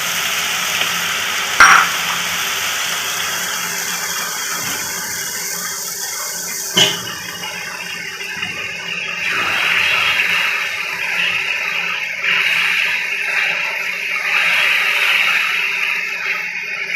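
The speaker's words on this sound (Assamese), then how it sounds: "অকণমান পানী দি দিছোঁ মাছখিনি ভালকৈ অলপ সিজিব" Water is poured into a pan where pieces of fish curry are frying, giving a steady sizzling, bubbling wash of sound with a couple of sharp clatters early on and no talk.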